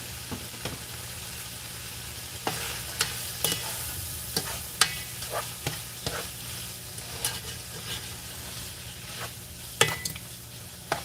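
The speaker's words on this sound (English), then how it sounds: "Just adding a little bit of garlic flavor, since there's already onions in there." Garlic and onions sizzle steadily in a frying pan, a soft continuous crackle broken by repeated sharp scrapes and clacks of a utensil stirring, close and moderately quiet with no talking.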